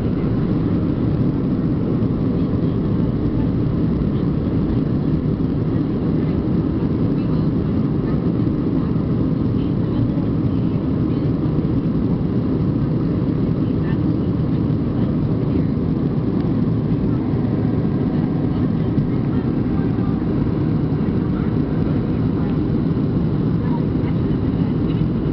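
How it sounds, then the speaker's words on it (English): Steady, loud, unbroken roar of a Southwest Airlines airliner cabin during descent into Atlanta Hartsfield International Airport, a dense low engine and air rush with no pauses. "We're about to descend down into Atlanta Hartsfield International Airport"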